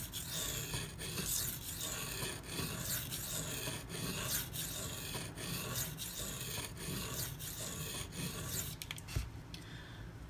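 A Spyderco Paramilitary 2 knife with a 52100 steel blade being sharpened, a close, continuous rasping grind in repeated rhythmic strokes against the abrasive, with no talking.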